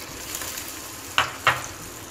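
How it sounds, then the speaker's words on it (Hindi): Chickpea kebabs shallow frying in a pan give a low, steady sizzle, punctuated by two quick metallic knocks against the pan close together. "तो यहाँ पे हम शैलो फ्राई करेंगे इसको"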